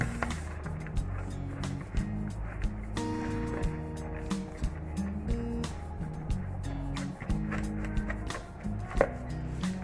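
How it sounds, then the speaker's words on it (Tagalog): Tomatoes being chopped into small pieces with a knife on a board while making vegetable kabab, a steady series of quiet, rhythmic taps under soft background music. "Tapos itong kamatis, lahat po yan na hiwain na maliit-liit"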